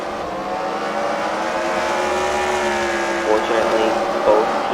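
Several race cars roar together in a wreck race at the Freedom Factory, their engines droning in layered, steady tones with rising surges near the end, loud and close, under a commentator's voice.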